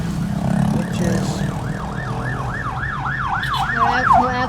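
An ambulance siren wails in a fast rising and falling cycle during typhoon aftermath, loud and close over road and vehicle rumble, growing more prominent toward the end.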